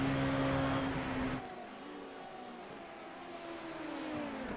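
Race car engine heard on board in a Le Mans endurance racing video game, a loud steady drone that drops to a lower, quieter hum partway through as the car lifts off to save fuel.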